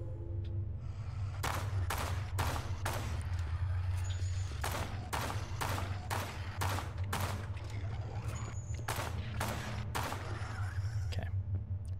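Repeated gunfire from a weapon in the horror video game Hollowbody, loud broadband shots in irregular bursts of two to four, over a steady low droning ambience.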